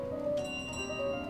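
Bell in Untitled Goose Game, a steady bright ringing tone with sustained harmonics carrying through the whole short moment at moderate loudness, with no talk over it.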